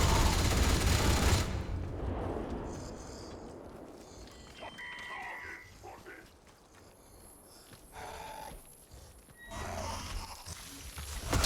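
Turret gunfire erupts in a video game, a loud burst of rapid fire at the start fading into quieter game sounds, with another burst at the end.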